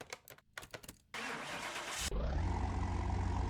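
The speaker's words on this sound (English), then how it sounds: "let's get this little Porsche engine started, twin turbo, and see what she sounds like" A twin-turbo Porsche engine in the Car Mechanic Simulator game cranks with a few quick starter bursts, then catches and settles into a loud, steady, rumbling idle.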